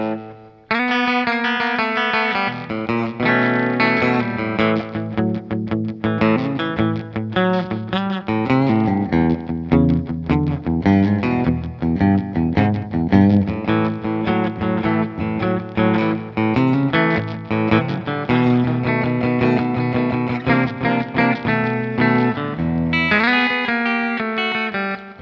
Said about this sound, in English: so that's quite a nice sort of slapbacky sound